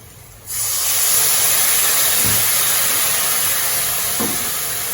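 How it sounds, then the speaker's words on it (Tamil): Tamarind water hits a hot pan for onion-garlic tamarind rice and sets off a sudden loud, steady hiss of sizzling and steam that lasts several seconds, with faint clanks underneath. "இப்போ இந்த புளி அதில் ஊற்றிடலாம்"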